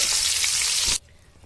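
Cauliflower pieces frying in hot oil in a Bengali home kitchen give a loud, steady sizzle that cuts off abruptly as they are lifted out, leaving only a faint residual hiss.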